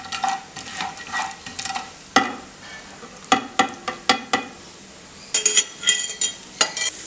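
Chana dal hits heated oil for a tempering, giving a steady close sizzle broken by sharp scrapes and clinks of a spoon stirring against the pan.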